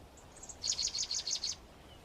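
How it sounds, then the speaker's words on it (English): Dead Sea sparrows chirping at a desert colony near the Dead Sea: a faint call, then a quick series of six bright, evenly spaced chirps close by over quiet background. "Unique to the region, these are Dead Sea sparrows."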